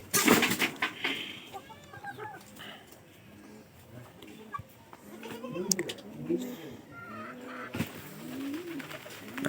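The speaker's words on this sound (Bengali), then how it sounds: "আমাদের এই কবুতরটা ছাড়িয়ে দিছি" A pigeon coos in soft, repeated rolling calls, fairly close, while people talk through most of it, with scattered rustles and knocks around them.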